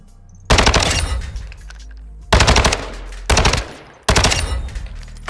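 HCR56 light machine gun fire in Call of Duty Modern Warfare 2: four loud, close bursts of rapid automatic shots, each roughly a second long, separated by short pauses.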